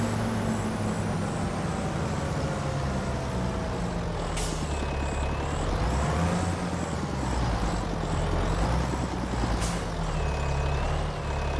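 In the video game Farming Simulator 25, a truck idles with a steady low engine drone under a sustained high tone, with two sharp air-brake hisses and rising and falling mechanical whines.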